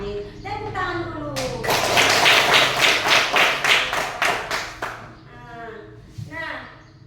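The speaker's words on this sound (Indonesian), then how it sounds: "Tepuk tangan dulu." A group of children in a classroom clapping their hands in a quick rhythmic burst of about a dozen claps, preceded and followed by a teacher's voice and children's chatter.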